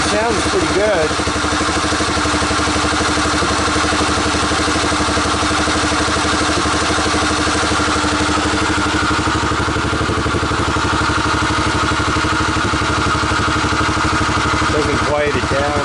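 An ATV engine idling with the choke on, a loud, steady, close mechanical chug with rattling that runs unbroken for the whole stretch.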